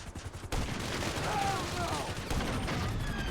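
Gunfire in the GTA 5 video game, with a loud burst of shooting that starts abruptly and continues as a dense, sustained rattle through the rest of the moment.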